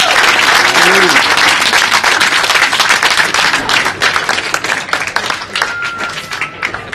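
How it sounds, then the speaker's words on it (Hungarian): Loud, dense applause and clapping rise for the young couple at a wedding reception in the Kerekerdő event hall, with a brief voice near the start and the clapping thinning into scattered claps toward the end. "Mindenek előtt egy hatalmas tapsot szeretnék kérni a fiataloknak"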